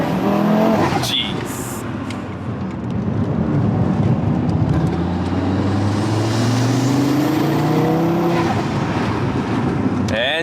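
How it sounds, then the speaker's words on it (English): A fast car drives on the way to a racetrack, its engine loud and close with rising and falling revs through gear changes, while people talk over it. "picked the fastest car in the driveway to go there"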